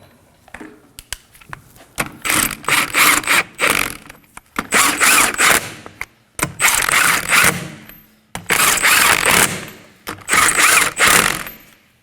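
Rapid ratcheting bursts from a wrench snugging the rear wheel lug nuts on a 2011-2016 Kia Optima, five loud runs of clicking separated by short pauses, close to the mic with no talking.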